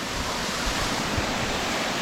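A waterfall at the end of a short woodland trail, heard as a dense, steady roar of rushing water that fills the whole clip evenly, close and continuous, with no voices.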